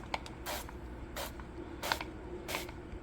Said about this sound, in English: now you're going to drizzle or spray olive oil.